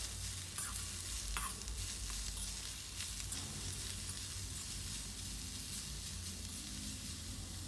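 Carrots and bell peppers seasoned with salt and black pepper are stir-fried for a shirataki noodle dish. A soft, even sizzle runs throughout, with the scrape and rustle of the vegetables being tossed in the pan.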